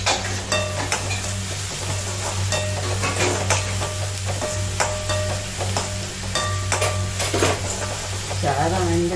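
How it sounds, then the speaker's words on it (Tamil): Okra and tomatoes sautéing in oil in a pan for a home lunch, with a steady close sizzle and repeated scraping and clinking of a spoon stirring against the pan throughout. "நல்லா தக்காளி வதங்கவும் வெண்டைக்காயை போட்டுக்கலாம்"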